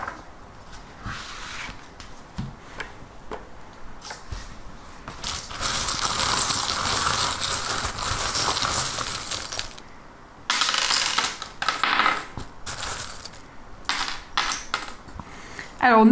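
Tarot cards and small metal charms gathered up and handled, with clinking, shuffling and rattling bursts that swell into a dense jangle midway, close and fairly loud, no talking.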